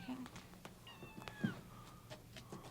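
A cat gives a few short meows and one brief squeaky cry, close but faint, with small rustles and movement noises between them.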